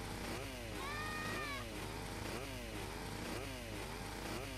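Chainsaw in GTA Vice City cutting into a car, a continuous buzzing engine drone with rising and falling revving sweeps, loud and steady throughout.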